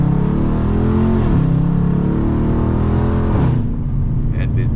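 Dodge Charger RT engine revving while driving, a loud sustained growl that climbs in pitch, drops at two gear shifts and then eases off near the end.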